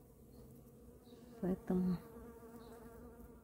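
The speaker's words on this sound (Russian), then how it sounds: "Проснулись пчелки." Bees newly awake in warm spring weather buzz softly around the spot, with two louder close passes near the middle as a bee flies right by, while one word is spoken quietly.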